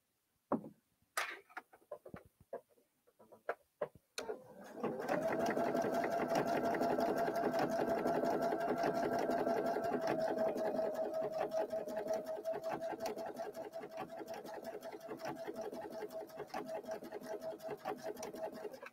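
A sewing machine stitches narrow satin cording onto a quilt, starting after a few scattered clicks and handling taps, then a long steady humming whir with quick needle rhythm that softens and flutters slightly toward the end.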